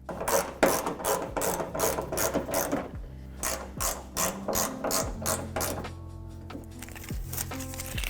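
Ratchet clicking close and clear while snugging hood hinge bolts on a 2016-2022 Toyota Tacoma, quick bursts of rapid pawl clicks in repeated strokes, then slower, sparser clicks near the end.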